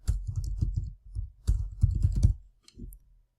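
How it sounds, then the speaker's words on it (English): Typing on a computer keyboard, a quick run of close key clicks in two short bursts, then a brief pause and a final tap. "So I'm going to type in population density,"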